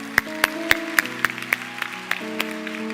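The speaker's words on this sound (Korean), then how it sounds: "박수 한번 하겠습니다" A church youth revival congregation claps in sharp, evenly spaced beats, roughly three per second, over sustained keyboard chords that shift pitch partway through.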